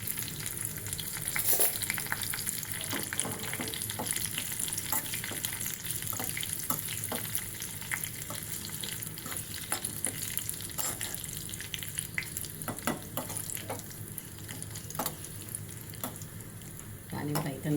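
Mustard seeds, cumin, dried red chillies and curry leaves sizzle and crackle in hot oil for a South Indian tempering, a steady fizzing bed with scattered pops and occasional clinks of a stirring spoon, no talk.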